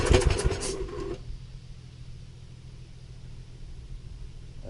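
1980s golf mower engine catching and running, a loud burst of sputtering firing for about a second, then settling into a low, steady idle rumble.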